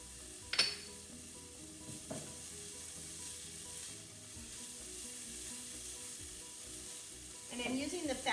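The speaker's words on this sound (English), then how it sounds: "now my onions and my bacon are sauteing nicely" Onions and bacon sauté in bacon fat in a pan, a soft, quiet sizzle with a few sharp clinks of a utensil against the pan near the start and a brief scrape at the end.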